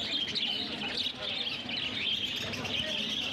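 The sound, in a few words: birds chirping at Garia bird market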